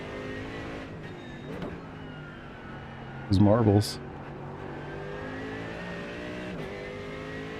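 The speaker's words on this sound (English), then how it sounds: "Yeah, the Merc does sound awesome." Mercedes GT3 race car engine in a racing video game, driving the Nordschleife: a steady engine drone with harmonic layers runs throughout, swelling into a brief louder rev or downshift burst near the middle, while a person talks over it.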